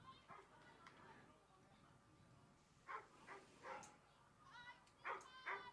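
A large Springer Spaniel-type dog barks and yips repeatedly during an agility run at an indoor show ring. The sharp calls come mostly in the second half against a faint, echoing crowd background.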